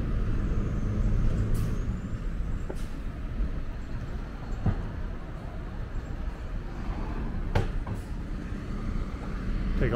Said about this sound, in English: Here comes a truck to my right.